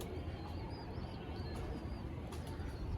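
Native Giribaz pigeons murmur and coo inside a crowded home loft, a low continuous layer of soft calls with a few faint chirps over steady background noise, no talking.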